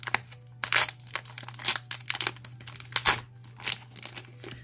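Close, crisp plastic crinkling and tearing as the wrapping is pulled off a pack of envelopes, in quick irregular bursts over a steady low hum.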